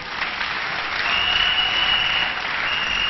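A church congregation at a French-language sermon applauds in steady, dense clapping that runs unbroken and fairly loud throughout, with faint crowd murmur underneath.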